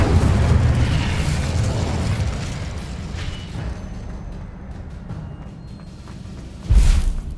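An Incendio fire spell in Hogwarts Legacy erupts as a loud, rumbling blast. It fades gradually, and a second short boom strikes near the end.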